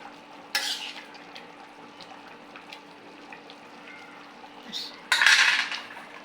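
A metal spoon scrapes and clinks in a pot of teasel gourd and pangas fish curry seasoned with roasted cumin. There is a loud scrape near the start and a stronger burst of stirring near the end, with quieter clatter between them and no voices.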